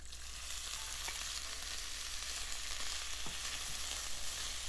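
Beef hits a pot of hot oil and ginger and fries with a continuous, even sizzle at close range, with a few faint scrapes of stirring and no talking.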